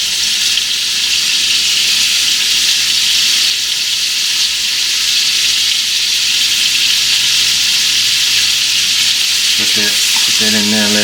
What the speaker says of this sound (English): put that in there, let it sizzle.